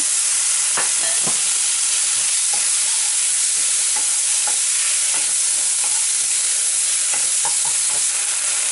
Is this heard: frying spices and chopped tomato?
yes